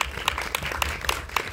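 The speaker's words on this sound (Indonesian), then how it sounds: "Boleh tepuk tangan dulu dong semuanya dong." Applause from the audience at a film press conference, a dense patter of many hands clapping steadily at close range with no voices over it.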